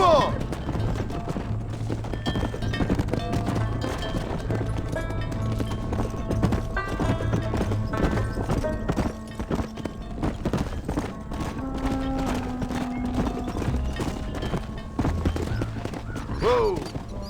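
Horses in the Western video game Red Dead Redemption run and clip-clop steadily through a pen toward a stable amid a busy game mix of hoofbeats, thuds and background tones, mostly without talk.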